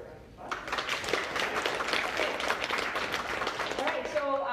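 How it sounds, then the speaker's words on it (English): Applause from the audience at Canada's Emerging Leaders Workshop at WickFest starts after a short quiet moment and keeps going for about four seconds. A voice begins talking near the end as the clapping carries on. "So let's give her a round of applause."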